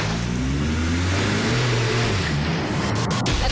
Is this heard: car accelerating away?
yes